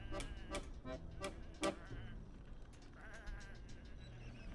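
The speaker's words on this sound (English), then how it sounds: "These are just sheep." Sheep in a video game bleat several times in quick succession, loud and near, one bleat standing out louder, then the sound fades into softer game ambience.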